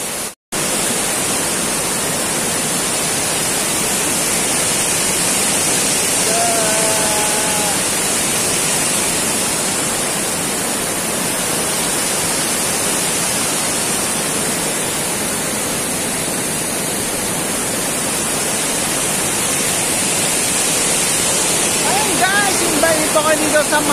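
Malinamon Falls waterfall roars as a loud, continuous broadband rush close by, steady for the whole stretch, with someone speaking faintly over it at moments.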